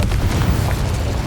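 A Confringo blasting curse erupts in Hogwarts Legacy, a loud, dense explosion with heavy low rumble and sustained crackling burst filling the entire short stretch.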